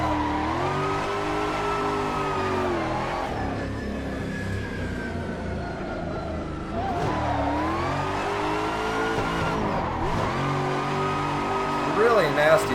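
A supercharged Toyota GT86 in the Assetto Corsa racing game drifts around Atron Circuit, its engine rising and falling with a layered whine across throttle changes, tires squealing briefly, while someone talks over it.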